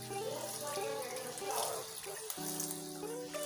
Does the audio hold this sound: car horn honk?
no